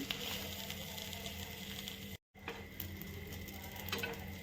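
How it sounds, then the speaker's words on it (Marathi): Pav buns heat in butter on a pan for pav bhaji, giving a steady soft sizzle and patter close by, briefly cut off by a short gap before it continues. "इथं असे पाव मी आता गरम करून घेते"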